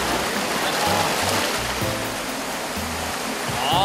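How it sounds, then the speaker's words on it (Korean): A cool mountain valley stream flows steadily, a broad, close rushing of water with no break and no voices. "시원한 계곡물이 해결해 주는데요"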